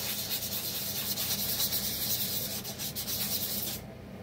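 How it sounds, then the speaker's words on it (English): Used 320-grit sandpaper rubbed over an engine piston after lathe work, a close, continuous rhythmic scratchy rasp of back-and-forth strokes that stops abruptly near the end, with no talking. "I'm just taking a used piece of 320 and I'm going over"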